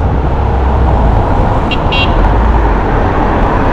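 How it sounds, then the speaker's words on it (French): A KuKirin G2 Max electric scooter horn sounds in traffic as two short, high electronic toots in quick succession, faint over the loud, steady roar of road and passing car noise. "Voyons voir le klaxon en pleine circulation."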